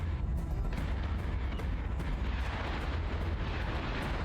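Flak wall defensive fire from a warship in the space combat game Battlestar Galactica: Deadlock, a dense, continuous rumbling barrage of booms with repeated sharp bursts every half second or so, loud and sustained throughout.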